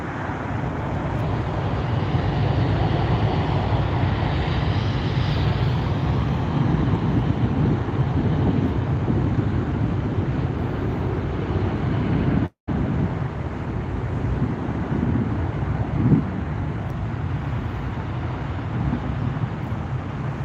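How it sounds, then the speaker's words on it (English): An Alaska-branded Embraer 175 jet airliner operated by SkyWest, five years old, roars at night near an airport, a loud, continuous broadband engine rumble holding for about twenty seconds with one momentary dropout. "an Alaska operated by SkyWest Embraer 175 going to Santa Rosa"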